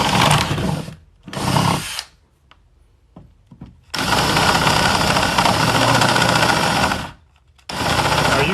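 A cordless power drill, used while fitting a shower fixture onto a pipe, whirs in loud close bursts: two short runs, a pause with small clicks, a long sustained spin, then one more burst as the battery runs low.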